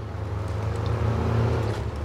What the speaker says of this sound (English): that's how an engine should sound